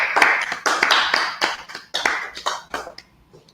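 A small group claps in short uneven bursts for a man being honoured at a religious gathering, the applause loud and close, swelling and dropping several times before fading out.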